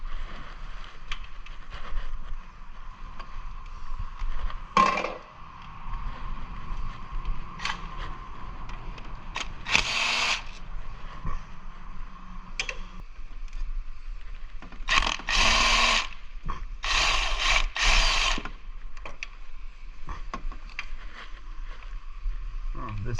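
A 13mm nut on the battery wire of an RX-8 is worked loose during transmission removal in a garage: scattered metallic ratchet clicks and tool clatter come in short bursts, with quiet stretches and some low background noise between.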